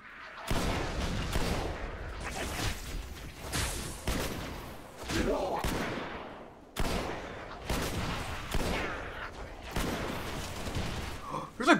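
Repeated shotgun blasts in the Halo: Spartan Assault video game, loud bursts in irregular clusters mixed with other game combat noise, with a voice talking intermittently over the gunfire.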